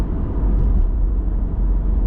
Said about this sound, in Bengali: এটা হচ্ছে আপনার ইঞ্জিনের শব্দ